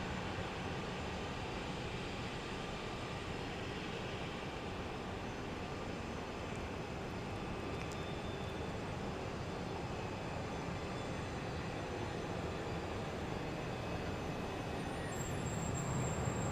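United flight 1886, a jet airliner, takes off from runway 15 Left at Houston Intercontinental at daybreak; a steady, unbroken broadband roar holds at an even level throughout, with no voices over it.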